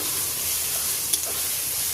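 Ginger and garlic frying in a pan give a steady, close, even sizzle with a single brief clink partway through.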